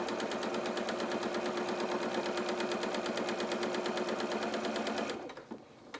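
A sewing machine runs fast and steadily for about five seconds, stitching a doll's pinafore with a dense, even rhythmic clatter close by, then stops with a couple of faint clicks.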